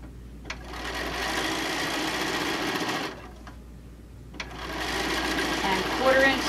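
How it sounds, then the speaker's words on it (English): Home sewing machine running fast as it stitches a quarter-inch seam on a panel tote bag, a steady close whir with two short pauses and a brief speedup near the end, no voices. "So we're going to be stitching along."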